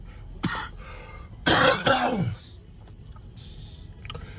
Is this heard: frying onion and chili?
no